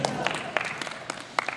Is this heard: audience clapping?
yes